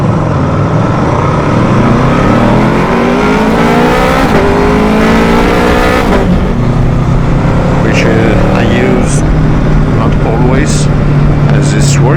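Honda VFR800F motorcycle engine revving up through the gears with a quick shifter, steady loud engine drone with rising pitch sweeps at each upshift, a voice talking over it throughout.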